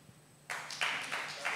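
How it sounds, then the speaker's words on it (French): A small audience breaks into brief, faint applause after a quiet moment, a short burst of scattered clapping that swells in a few waves and carries on to the end. "Par applaudissement, qui sont d'accord?"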